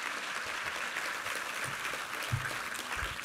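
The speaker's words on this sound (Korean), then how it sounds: "우리 하나님께 감사와 영광의 박수 올려드리겠습니다." Sustained applause from a church congregation during a Sunday worship service, steady dense clapping filling the room without pause, fairly loud and even throughout with no talking over it.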